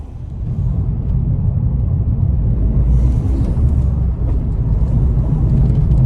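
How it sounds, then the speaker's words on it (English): A hot hatch on a race track gives a steady, loud low engine drone with a faint turbo whistle and hiss rising over it, heard from inside the car without talk. "Got some turbo noise."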